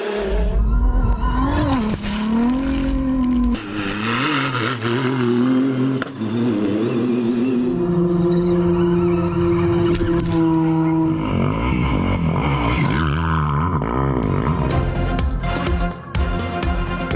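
Rally cars and motorcycles race across a desert sand track on the fourth day of the Dakar Rally in Saudi Arabia, with loud, continuous engines rising and falling in pitch as they rev and pass, dense and close throughout.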